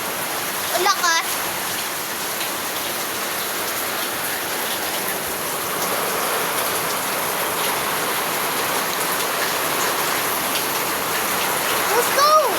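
Heavy rain roars in a continuous dense wash that swells slightly midway, with a voice heard briefly near the beginning and at the very end.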